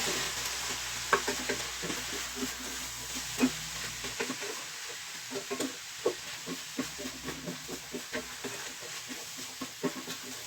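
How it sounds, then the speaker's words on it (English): Vegetables with garlic and Italian seasoning cook in a pan, giving a soft, steady sizzle with repeated light scraping and knocking taps as they are stirred. "Give this a good stir here."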